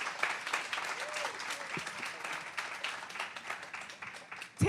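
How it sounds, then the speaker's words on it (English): An audience at a residency program coordinators' education retreat gives a steady round of applause, faint and filling the room for a few seconds with no break. "Put your hand, give these ladies another round of applause."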